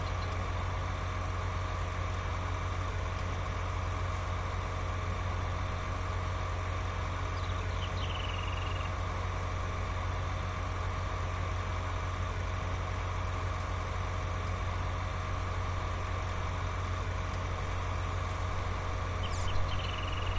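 Idling engine of a big John Deere 9RT tractor in a video game, a steady low rumble running unchanged at an even level throughout, with no talk over it.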